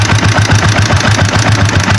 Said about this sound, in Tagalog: Kaya siguro maingay itong makina nito